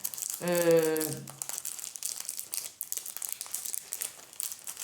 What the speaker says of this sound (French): je le remets dans son petit papier d'emballage